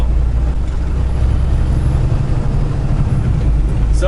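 A big blue semi truck's diesel engine runs steadily at close range, a loud continuous low rumble with a slight vibration and no speech over it.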